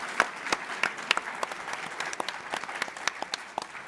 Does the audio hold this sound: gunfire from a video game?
no